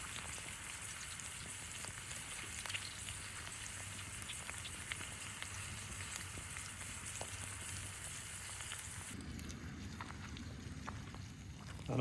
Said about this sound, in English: I don't know if you guys can hear that sizzling